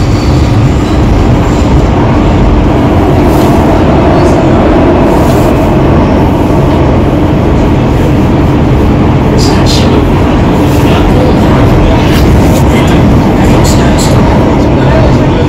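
A loud metro train rumbles continuously nearby, with rattling wheels and occasional high squeals over the heavy low roar.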